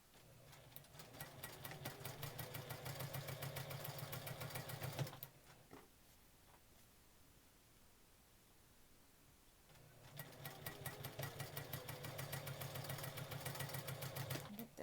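A sewing machine stitches hourglass quilt block patches in two steady bursts of about five seconds each, with a rapid even needle rhythm and motor hum, separated by a quiet pause.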